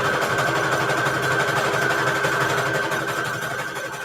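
A sewing machine stitches scrap fabric for Christmas covers, a loud, close, steady whir of motor and needle that slowly eases off toward the end.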